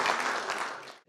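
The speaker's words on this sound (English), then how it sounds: "May we give him a round of applause" Brief burst of applause for a speaker at a finance leaders summit awards session, a crowd clapping steadily for about a second before stopping abruptly.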